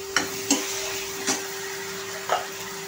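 Onion and cabbage stir-frying in a pan, a constant sizzling hiss punctuated by four distinct clinks and scrapes of a utensil, with a faint steady hum in the background.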